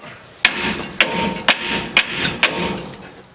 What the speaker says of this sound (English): So now I guess I can pound out what's left of the bolt.